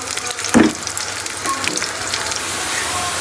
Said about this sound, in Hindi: हमने आधा कप हमने ऑयल का लिया है और उसके अंदर हमने प्याज लेनी है। प्याज को फ्राई करना है अच्छे तरीके से।